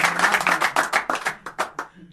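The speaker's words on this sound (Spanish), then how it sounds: "aplausos para Rocky" Audience at a stand-up comedy show claps in a quick, uneven burst of distinct hand claps that thins out and fades over about two seconds.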